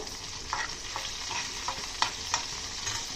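Steady sizzling of food frying in a pan for a peanut, coriander and tomato chutney, with a few sharper crackles and scraping stirs scattered throughout, close and moderately loud.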